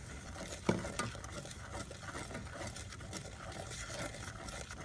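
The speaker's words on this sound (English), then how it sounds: "We're just going to put this in here and give it a stir" A spice mixture, about a teaspoon each of several seasonings, being stirred into a pot of crab boil liquid with butter, giving a steady low churning and gentle scraping wash with one sharper clink near the start.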